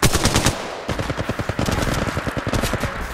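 Rapid automatic gunfire in the Apex Legends video game, loud and close, with a short burst followed by a sustained stream of fast, evenly spaced shots.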